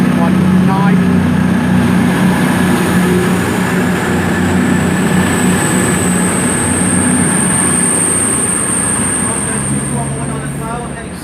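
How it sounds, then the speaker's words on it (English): A train pulls out of Leamington Spa station, a steady rumbling roll with a long rising whine, loud and close, gradually easing as it moves away. "the 13:14 to Manchester Piccadilly is about to leave as well"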